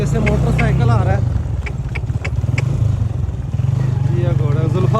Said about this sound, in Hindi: आगे से मोटरसाइकिल आ रहा है।